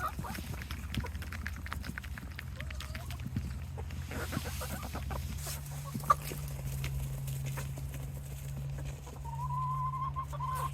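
Backyard pet hens cluck and murmur softly while pecking at Bluebird nuggets, wild bird treats of corn, roasted peanuts, beef suet, oats, raisins and soy oil, with scattered calls over quiet outdoor ambience.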